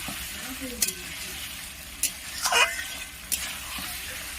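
Sesame pointed gourd curry stirred in a pan, with a few sharp scraping strokes of the spoon over a soft sizzle, each stroke brief and spaced out.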